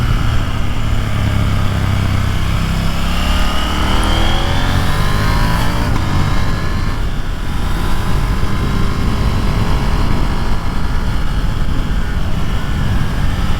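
KTM 890 Duke motorcycle engine accelerating hard up through the revs, loud and close, with steady rushing wind noise throughout the ride and no talk.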